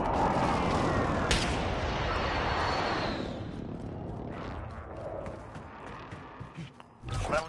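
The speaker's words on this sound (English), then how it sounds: "Enemy precision airstrike." Enemy precision airstrike in Call of Duty Warzone: a sharp close impact followed by a heavy rolling roar of explosions and aircraft noise that fades over several seconds, with scattered later thumps.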